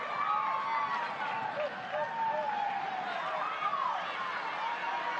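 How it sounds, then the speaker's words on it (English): Stadium crowd at a Jamaica vs Panama Women's World Cup football match applauding and cheering, a broad steady wash of clapping and voices with a commentator talking over it throughout. "Crowd appreciating that."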